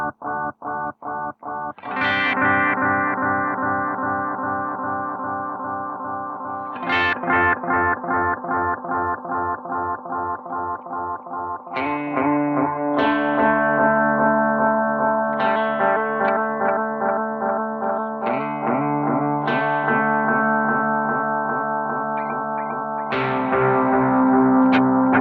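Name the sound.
guitar through Nobels Del-mini analog delay pedal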